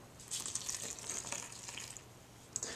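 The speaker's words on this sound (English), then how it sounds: "so we'll add a little bit of water." Water is poured from a tap while kneading dry dough, a faint splashing trickle lasting about two seconds followed by a brief sharp tap, with no talk.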